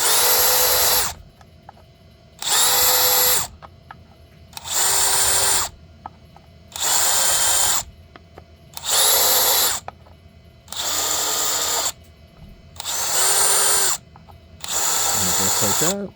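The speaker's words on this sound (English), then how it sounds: "all you do is just pull out your drill." A power drill whirs in eight short bursts of about a second each, separated by brief pauses, loud and close, cleaning countersunk holes during race car chassis prep.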